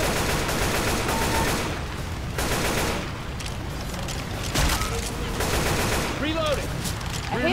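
Assault rifle fire in the zombie shooter Left 4 Dead 2, loud dense bursts of rapid automatic shots in several strings with brief gaps, chaotic game noise mixed in and someone talking over parts of it.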